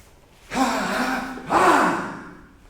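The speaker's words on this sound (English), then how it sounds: "Then on the turn, you sneak another breath." Two sharp, audible breaths drawn in during a Shotokan karate kata, each a rushing inhale lasting about a second, close and loud against near silence.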